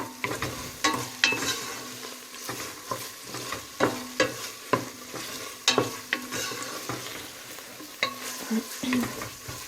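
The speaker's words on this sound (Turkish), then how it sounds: "kokusu çıkana kadar salçamla birlikte kavuruyorum" Meat and chickpeas are sautéed with tomato paste in a pot, giving a steady close sizzle broken by repeated scraping and stirring strokes with occasional light clinks, and no talking.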